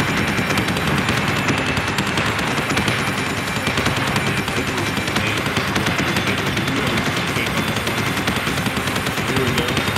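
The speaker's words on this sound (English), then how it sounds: "we got some missiles outgoing." Missiles launch in a video game space battle as a dense, unbroken barrage of rapid blasts and roaring fire. It stays loud and constant throughout.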